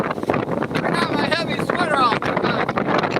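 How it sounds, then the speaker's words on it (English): Loud, steady wind from Typhoon Odette buffeting the microphone outdoors near water with rocking waves, a voice talking over the rushing gusts. "it's really windy out here."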